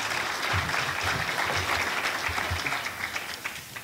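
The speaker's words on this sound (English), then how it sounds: "would you just join me in a brief round of applause for our panelists and their opening remarks?" Audience at a leadership development panel applauding the panelists, a dense, sustained round of clapping at close range that tapers slightly toward the end.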